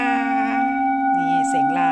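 An 8.2-inch crystal singing bowl tuned to A sings with a loud, sustained, close tone, its overtones wavering as the rim is rubbed.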